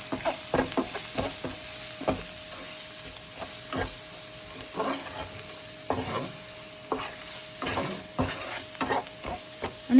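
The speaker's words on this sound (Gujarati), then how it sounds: "હવે બધા મસાલાને આપણે સરસ રીતે આની અંદર મિક્સ કરી દેવાના છે ઓનિયનની સાથે." Spices and onion are stirred and sautéed in a pan for an Indian potato puff filling. A spoon scrapes and clinks again and again in irregular strokes over a faint, steady sizzle, with no talking.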